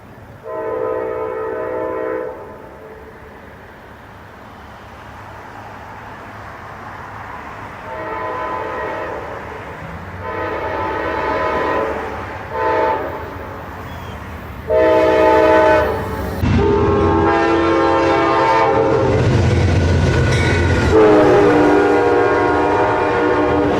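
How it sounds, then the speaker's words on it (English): A GE Genesis locomotive's Nathan K5LA air horn sounds several times, loud chorded blasts of varying length, some long and sustained, over the rumble of a passing train. "Most Genesis engines came equipped with Nathan K5LA air horns. Here are a few samples."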